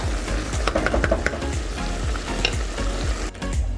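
Afghani chicken sizzles steadily in an uncovered pan, a dense, even frying crackle with faint stirring scrapes and no talking.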